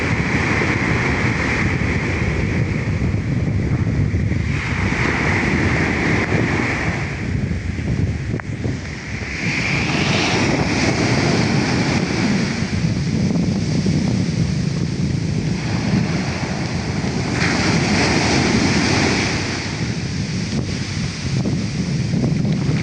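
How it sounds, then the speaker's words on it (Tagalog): Heavy surf roars and crashes in repeated surges, mixed with strong wind buffeting the microphone, no voices. "Maraming lalaki ng alon."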